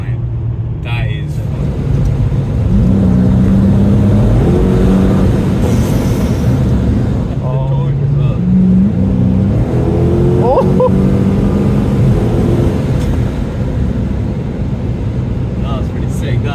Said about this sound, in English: I hope it picked up that supercharger whine.